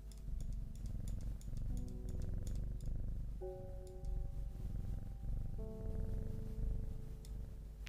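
A cat purrs in the puzzle game Strange Horticulture, a steady low rumble running throughout alongside gentle game music with soft clicking sounds.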